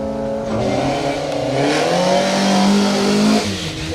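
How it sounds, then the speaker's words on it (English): A 2-litre Peugeot 205 rally car drives a wet stage at a memorial rally, its engine revving loud and close with rising and falling pitch through gear changes, over a rushing wash of spray. "Charlie Garner and Jack Cuttle in that 2 litre 205"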